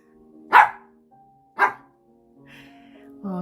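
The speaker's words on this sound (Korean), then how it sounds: "강아지가 와서 짖는데요." A dog gives two short, spaced barks over a quiet background with faint tonal sounds, followed by some softer murmuring noise at the end.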